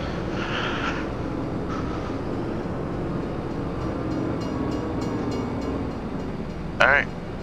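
A train in the farming game Farming Simulator 25 rumbles past steadily and loudly, a continuous rolling roar with a brief high squeal near the end, while someone talks over it.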